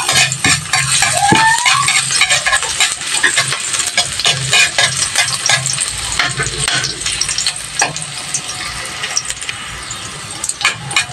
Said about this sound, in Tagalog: Nagigisa na po ako ng itong bawang.